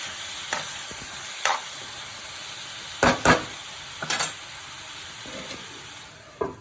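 Coconut and capsicum frying in a pan over a low flame, with sporadic spatula scrapes and clicks against a soft steady background sizzle; no talking.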